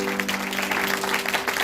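A church congregation claps during a sermon, a steady blurred wash of applause with a constant low electrical hum running underneath throughout.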